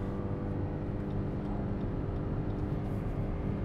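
A 2022 Lexus NX 450h+ AWD plug-in hybrid SUV pulls away under full throttle, its steady drone of engine and road noise holding loud and even from start to finish, with no talking.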